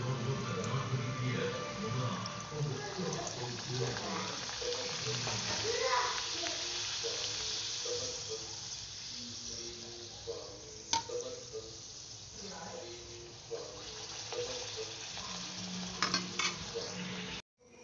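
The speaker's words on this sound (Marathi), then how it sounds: "आपण सगळ्या पुऱ्या तळून घेऊया।" Puris deep frying in hot oil give a steady bubbling sizzle with occasional clinks of a utensil, continuous and close, dropping away abruptly at the very end.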